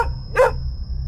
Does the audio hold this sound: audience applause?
no